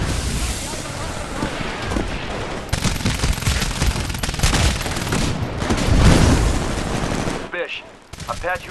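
Sustained automatic gunfire and heavy booms in the video game Titanfall roar loud and close almost nonstop, then cut out near the end into a few sharp electronic blips.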